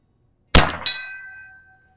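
A .25 caliber PCP air rifle pellet strikes a metal bell target at 50 yards: a sharp metallic clang, a second quick strike, then a bright ring fading out over about a second in otherwise quiet surroundings.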